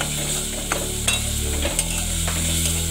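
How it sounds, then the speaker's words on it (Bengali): Eggplant bharta fries and gets stirred in a pan over medium flame, a constant sizzle with occasional clicks and scrapes of the spoon, close up beneath a low steady hum. "একটু মিডিয়াম ফ্লেমে রাখবে, ফ্লেমে রেখে ভালো করে এটাকে ভেজে নেবে"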